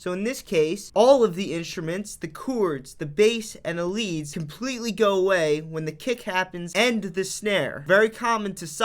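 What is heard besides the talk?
No distinct noise like a dog, phone or traffic.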